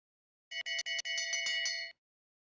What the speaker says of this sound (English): they'll be hearing the bell signifying 1 lap to go